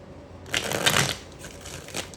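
Playing cards riffled and bridged by hand, a quick close whirring cascade followed by softer settling flicks, brief and crisp with no talking.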